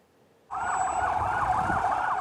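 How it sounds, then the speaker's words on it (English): An ambulance siren in war-damaged southern Gaza switches on abruptly and wails in a fast, loud, warbling cycle close by, alone with no voices. "Ambulances weave through the dusty, demolished south of Gaza, with nowhere to take the injured."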